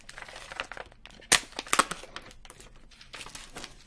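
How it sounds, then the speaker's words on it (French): Taped plastic trading card packaging is torn and shredded by hand, close crinkling and crackling with a couple of sharp ripping bursts amid softer rustles. "Obligé de le déchiqueter, le machin"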